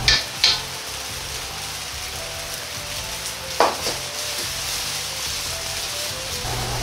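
Yakisoba noodles with spicy minced meat and cabbage frying in a pan give a steady low sizzle, broken by a couple of sharp clicks near the start and a single scrape of the pan partway through.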